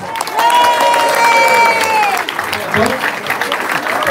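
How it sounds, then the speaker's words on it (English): Applause from an indoor audience, a loud burst of clapping with some cheering that peaks early and then tapers off, while someone speaks over it. "Give this man a round of applause."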